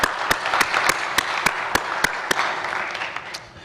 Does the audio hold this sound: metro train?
no